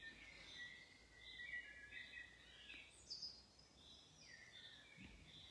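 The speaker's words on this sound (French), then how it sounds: "Magnifique les chants d'oiseaux" Birds singing somewhere outdoors, a faint, distant scatter of high chirps and short trills over a quiet background hiss, with no voices.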